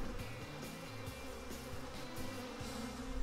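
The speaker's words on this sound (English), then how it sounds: "the front of that hive is completely covered with bees" Honey bees swarm densely over the front of a hive in a mean-tempered colony, a steady close insect drone with individual buzzes rising and falling across the whole clip and no voices.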